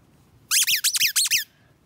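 Squeaky toy tennis balls from a dog ball launcher gun squeezed in five quick, loud squeaks in a steady rhythm, close up with no talking.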